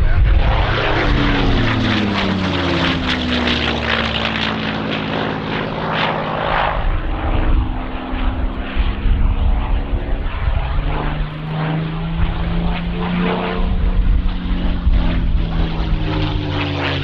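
Roaring V12 Merlin piston engines of a P-51 Mustang and a Spitfire fill the whole stretch, a loud, steady propeller drone with shifting pitch and throbbing beats as the warbirds fly past.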